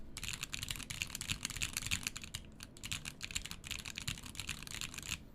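Rapid, continuous typing on a Tengu mechanical keyboard fitted with Zealios tactile switches, a dense stream of close, crisp key clacks with small pauses and no talking.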